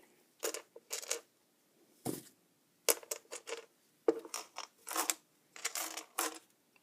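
Loose pieces of fire pit glass being handled and pushed into place while building a geode craft, giving a series of close, bright clinking and scraping bursts with short pauses between them and no talk.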